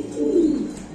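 A pigeon, of a rare fancy breed with distinctive eyes, gives a single short low coo, close and clear, with no talking over it.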